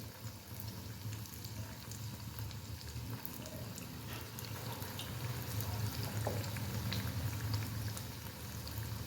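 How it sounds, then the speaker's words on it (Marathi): Vada dumplings deep-fry in hot oil with a continuous bubbling sizzle, fairly quiet and steady, growing slightly denser toward the end. "एक एक करत जेवढे तेलामध्ये मावतील तेवढे गोळे घालून घ्यायचे"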